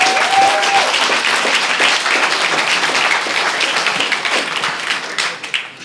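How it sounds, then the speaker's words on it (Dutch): A packed room of listeners applauds poetry slam performers at a library venue in Rotterdam, loud continuous clapping close by that thins out and fades toward the end. "wil ik graag weer even een applaus voor alle vier de slammers."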